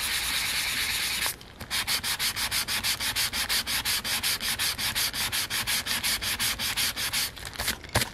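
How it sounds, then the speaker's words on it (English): Close, rhythmic scraping of a sanding block rubbed back and forth over paper collage, quick regular strokes after a brief steady rub, no talking. "This is a sanding block."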